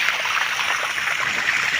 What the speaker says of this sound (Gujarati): અમારે પાઇપલાઇન કરેલી ને એના થકી પાણી આવે છે